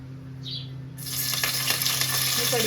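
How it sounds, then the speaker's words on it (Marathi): Curry leaves drop into hot oil and break into a sudden loud, crackling sizzle that keeps spitting and popping steadily, close up, with a low appliance hum underneath. "मी कढीपत्ता टाकून घेतला आहे तेलामध्ये"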